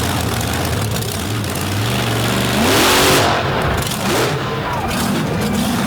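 A Michigan Ford race car roars around a track at a season-opening all-star event. The engine is loud and revs up and down, with pitch sweeps as it accelerates past, and faint commentary can be heard underneath.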